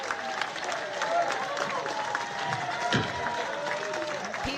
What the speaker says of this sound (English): Lukewarm applause.